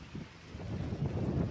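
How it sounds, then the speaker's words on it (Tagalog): Strong morning wind gusting across a microphone outdoors in a wooded area, a low rumbling buffet that swells louder toward the end with no voices over it. "Lakas ng hangin."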